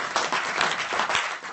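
Brief burst of steady clapping from a small audience at a health talk event, moderately loud and continuous throughout.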